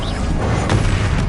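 A Confringo fire spell explodes in Hogwarts Legacy, a loud, dense blast filling the whole short moment with rumbling noise and a sharper burst partway through.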